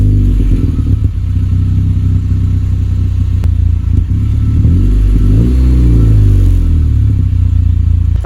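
A 9th-gen Honda Civic Si with a full race exhaust starts warm and settles into a loud, raspy idle, then rises through a few revs that climb and fall, close up with no talking.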